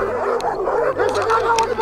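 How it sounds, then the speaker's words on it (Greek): Dogs at a shelter looking after some sixty animals yip, whimper and bark in short bursts, fairly near, over a busy background. "ο Μέντε Φουέρτε φροντίζει 60 σκυλιά"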